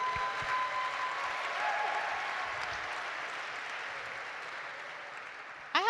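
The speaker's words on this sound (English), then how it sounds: "Can we give him a round of applause as well?" Sustained applause fills a gala evening at the Arch Grants Nexus 2023 event, a dense steady wash of clapping from a large seated audience that holds level for several seconds before fading at the end.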